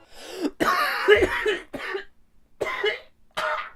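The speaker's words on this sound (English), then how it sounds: "Just a little cough" Several close, raspy coughs in quick bursts separated by brief pauses, with some throat clearing.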